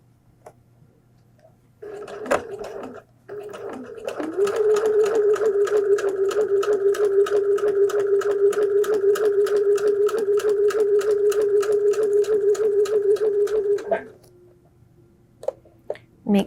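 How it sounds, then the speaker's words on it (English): A sewing machine runs in a steady rapid stitching rhythm for about ten seconds while back stitching a flu mask seam at a quarter-inch allowance, framed by a few isolated clicks before and after. "I'm going to back stitch right here"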